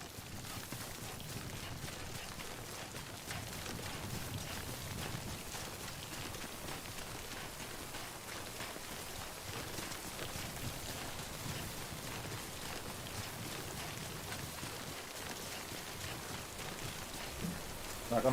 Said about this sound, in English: remember that prolonged exposure to timefall damages cargo containers. Don't stay out in the rain any longer than you have